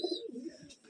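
A pigeon at a pigeon farm gives a brief, soft, low coo lasting under a second, faint and close, with no other sounds.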